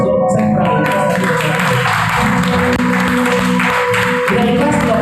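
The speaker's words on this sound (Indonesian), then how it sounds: "kalau tepuk tangan buat Tuhan yang ikhlas dong" A church congregation applauding for God during a worship service, dense sustained clapping from a crowd with voices mixed in and a musical tone underneath, loud and continuous.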